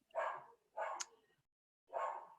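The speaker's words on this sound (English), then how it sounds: "you probably hear my dog barking" Three separate dog barks, sharp and fairly close, spaced apart with short silences between them.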